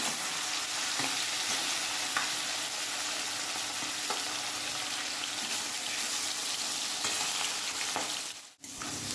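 Fish frying in a wok gives a steady, close sizzle with faint stirring scrapes, running evenly before a brief dip near the end.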